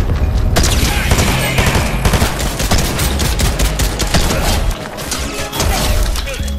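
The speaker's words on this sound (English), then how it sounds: "Why is this guy shooting me?" Dense, continuous gunfire from the Fortnite video game, with rapid overlapping shots and crashing impacts that stay loud and close throughout, with no talk.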